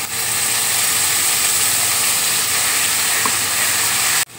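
Spice paste sizzling loudly in a hot pan as it goes in on top of fried grated coconut for a Bengali banana-stem curry, a steady broadband hiss that runs without a break and then cuts off abruptly.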